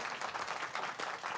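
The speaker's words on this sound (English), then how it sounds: "One more round of applause for our student reporters" Audience at a school board meeting applauding student reporters, a brief, dense, steady wash of clapping at moderate distance with no voices.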